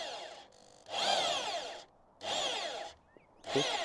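Power drill driving screws into a wooden planter, three loud whirring bursts of about a second each separated by short pauses, close up with no talk.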